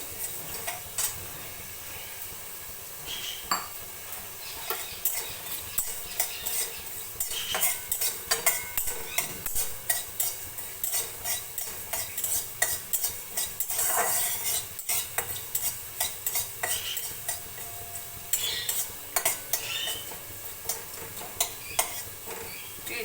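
Black cumin (nigella seeds) dry roasts in a pan for a sim bata recipe, with a steady soft hiss under repeated rattling stirs and scrapes of a utensil against the metal, fairly quiet and close.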